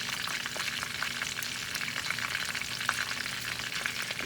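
Sriracha sauce with lime bubbles and sizzles in a hot pan, a steady, close crackle with tiny pops throughout and no voices.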